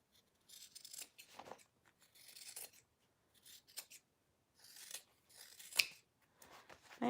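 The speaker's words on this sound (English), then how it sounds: "I am going to trim along my corners here." Scissors snip and trim the corners of a fabric Ludlow wristlet during sewing, giving a series of quiet, close, crisp cuts in short irregular bursts with pauses between.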